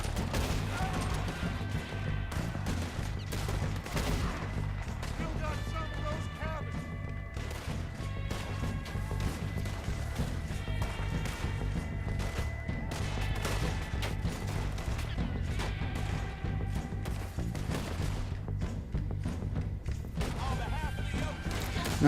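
Shootout gunfire in Red Dead Redemption 2 in snow: repeated sharp shots and impacts throughout, fairly even and moderately loud, over a droning game score, with occasional talking.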